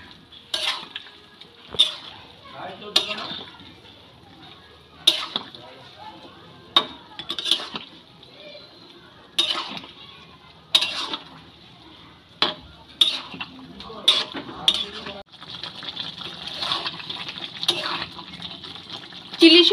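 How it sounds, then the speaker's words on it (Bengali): Fried soya chunks stirred into boiling gravy for chilli soyabean, repeated sharp clinks and scrapes of a utensil against the pot at an uneven rhythm over a faint bubbling simmer. "সোয়াবিনগুলো দিয়ে খুব ভালো করে নেড়েচেড়ে মিশিয়ে নেব।"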